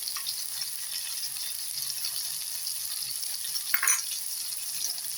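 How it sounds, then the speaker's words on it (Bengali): Raw banana kofta curry spices, turmeric powder with dry-roasted cumin and coriander, sautéing in a pan, giving a steady soft sizzle with faint stirring scrapes and no voices. "দিয়ে এটাকে আমি এখন খুব ভালো করে একটু কষিয়ে নেব।"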